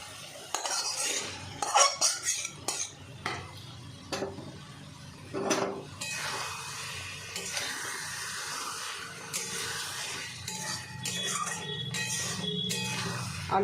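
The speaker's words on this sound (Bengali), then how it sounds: "আলু আর বেগুনটা ভালো করে কষিয়ে নেব মশলার সাথে।" Potato and eggplant fried with masala in a pan for a fish dish, heard as steady close stirring and scraping of metal utensils against the pan with clinks over a soft sizzle, with no talking.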